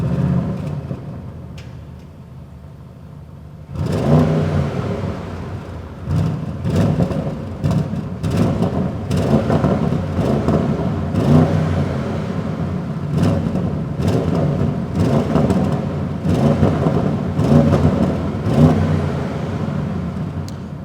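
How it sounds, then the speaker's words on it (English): An Audi RS7 Performance V8 fires up loudly after a quiet moment, then revs repeatedly in sharp bursts over a steady, rumbling idle, close and with no talking. "Let's get on and let's start up the RS7."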